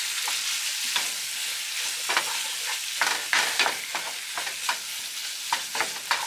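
A spoon stirs seasoned cheeseburger filling in a hot pan, its irregular scraping strokes rising over a continuous sizzle, close and fairly loud, with no talking.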